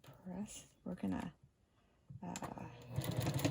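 A sewing machine stitches quilt block pieces together in short bursts of whirring, with a longer run at the end. A person talks between and over the stitching.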